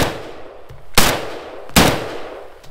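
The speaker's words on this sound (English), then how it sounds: "First, we'll just shoot a few rounds and see what we got." Two sharp, loud AK rifle shots ring out about a second apart outdoors, each a crisp crack followed by a short decaying echo, with no talking.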